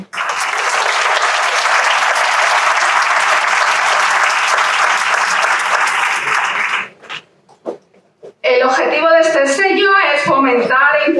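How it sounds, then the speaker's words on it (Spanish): Loud, steady applause from the audience at the Fuenlabrada Dinámica 2019 business event, lasting about seven seconds and dying out in a few stray claps, followed by a voice speaking into a microphone. "Gracias, un aplauso."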